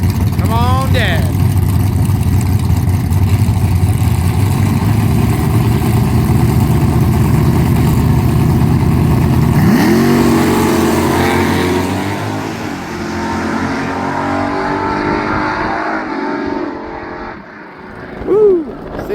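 Nostalgia super stock drag race cars rumbling loudly nearby, then launching with a rising roar that fades into the distance, with a voice calling out over the engines.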